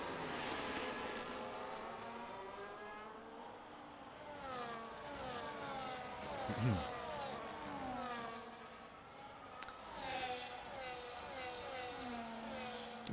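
Race cars scream along a street circuit in a racing video game, several engines rising and falling through gear changes in overlapping whines, steady and moderately loud with no talking.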